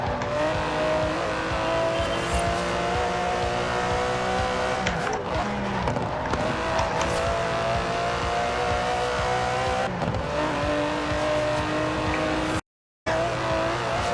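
Aston Martin DB11 with a 5.2-litre twin-turbo V12 driving in Forza Horizon 4, a steady engine drone with shifting pitch and brief tire squeal, loud throughout with a short dropout near the end.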